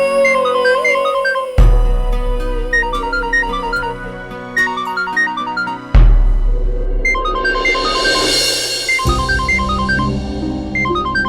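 A melodic electronic phone ringtone plays loudly and repeats in cycles, a bright tune of chiming notes over a steady beat, with no voices.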